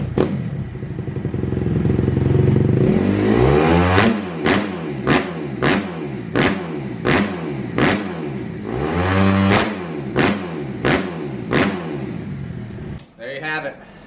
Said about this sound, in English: I'll let this thing warm up, give you a couple revs